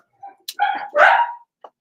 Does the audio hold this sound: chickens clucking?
no